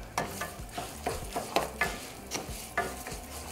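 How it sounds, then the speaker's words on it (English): Rice frying in hot oil for Mexican rice sizzles under a steady rhythm of close, repeated stirring scrapes, roughly two per second, with no voices. "we're going to be frying it until it's nice and golden."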